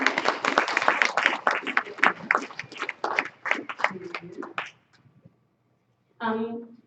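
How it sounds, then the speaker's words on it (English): A round of applause at a chapter meeting of a Utah purchasing association, a dense burst of hand claps that thins out and stops after several seconds, followed by a short pause and a brief voice. "So we'll give a round of applause."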